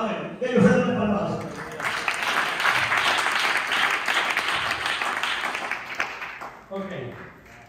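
A church congregation breaks into applause during a service, a swelling wash of clapping in the middle with voices talking at the start and end.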